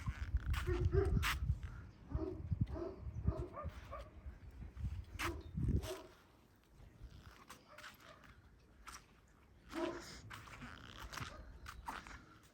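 A dog barks and yips in sharp bursts, fairly close, with quieter stretches of rustling and faint distant barks in between.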